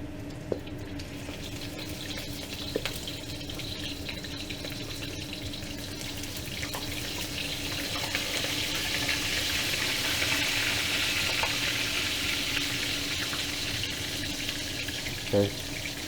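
Lobster pieces frying in hot oil in small batches, a continuous close hiss and bubbling sizzle that swells slightly midway, with faint clinks.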